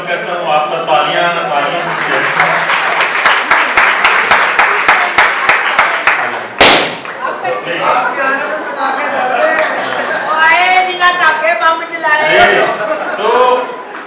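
A crowd at a May Day gathering of domestic workers claps steadily to welcome a guest, with rapid rhythmic clapping under loud chatter and talk, then voices carry on after the clapping fades.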